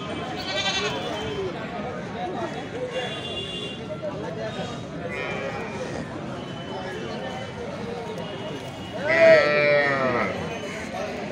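Goats bleat repeatedly amid a busy livestock market at Rail Bazar haat, with a louder, closer bleat near the end, all under constant crowd chatter and people talking.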